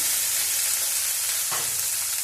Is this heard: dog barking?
no